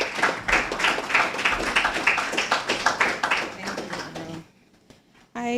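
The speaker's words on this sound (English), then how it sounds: "Let's have a round of applause for Sheba" An audience at a reparations forum applauds a speaker as she is introduced, a steady burst of clapping that fades out, then falls briefly quiet before a sound at the end.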